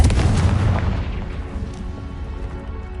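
A Confringo spell blast in a Harry Potter video game lands as a single loud, deep boom that rumbles and fades over a few seconds, with no talking.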